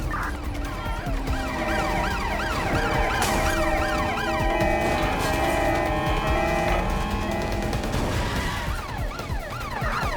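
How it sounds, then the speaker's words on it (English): A wailing ambulance siren from the video game Watch Dogs Legion sweeps up and down steadily and loudly over a street traffic bed, with a second siren layered in. "Ambulance at our location, over."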